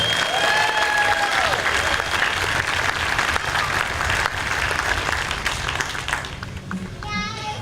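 Audience applause for a live music trio at a concert, steady crowd clapping with a few voices and children audible underneath, fading near the end.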